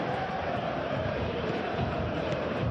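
Stadium crowd noise from the eFootball PES 2021 video game during a PSG versus Arsenal match, a steady continuous roar of many voices at moderate level with no distinct peaks.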